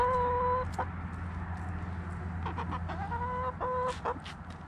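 A hen clucks outdoors on a chilly, icy day, with a few short clucks near the start and a burst of clucks toward the end. A steady low hum runs underneath and nobody speaks.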